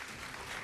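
Brief burst of studio audience applause during televised presidential debate coverage, a steady, even wash of clapping heard alone and fairly quiet.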